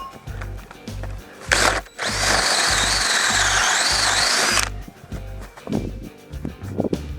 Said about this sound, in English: we need to drill the hole a little bit longer